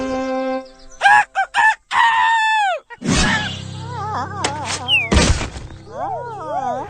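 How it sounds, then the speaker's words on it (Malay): Roosters crow repeatedly, loud and close, with drawn-out calls and some clucking and bird chatter in between, just after rain. "Memang banyak ayam, bunyi-bunyi ayam di belakang lah."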